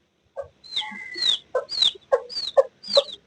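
A hen and her chicks make short, close, repeated clucks, with high sliding peeps between them in a quick run of calls.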